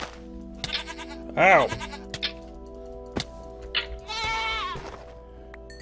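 Goats in Minecraft bleat in several wavering calls spread across the stretch, loud and near, with a short spoken exclamation and other game sounds between them.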